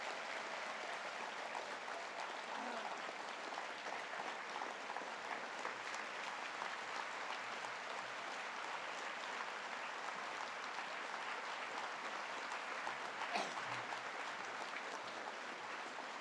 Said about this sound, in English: please, a big round of applause to Mr.